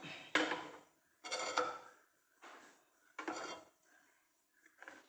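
A metal pan is set down on a kitchen stove with several clanking knocks of metal on metal, loud and close, in separate bursts with short pauses, ahead of roasting cashews and almonds in a little ghee.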